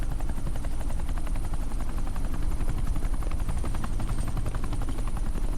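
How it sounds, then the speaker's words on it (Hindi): A helicopter flies in to land on an airport tarmac, its rotor chopping in a steady, rapid, loud rhythm throughout with no pause. "ये हेलीकॉप्टर सीधे एयरपोर्ट के टारमैक पे लैंड होगा।"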